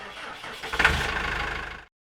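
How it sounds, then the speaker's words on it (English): A tractor engine in a Minecraft farm game starts up and runs with a steady mid-pitched mechanical drone, close and moderately loud, before it stops abruptly. "And a brand new tractor has been acquired to be able to pull these carts around the farmstead"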